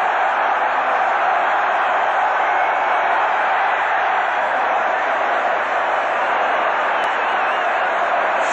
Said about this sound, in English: Finland goes wild, the crowd go wild